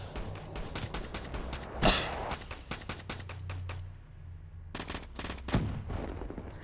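Rapid bursts of automatic gunfire in a first-person shooter video game, crackling volleys separated by short pauses and a brief quiet gap midway, fairly loud and without talk over them.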